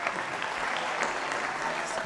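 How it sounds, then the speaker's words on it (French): Audience applause for a family performing on a children's variety show, steady dense clapping held at an even level for about two seconds, with faint voices mixed in. "Les gars, applaudissez pour la famille Tamadao"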